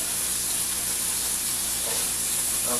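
Ribs browning in a pan give off a steady, loud sizzle and hiss of frying fat that holds constant throughout, with no voices.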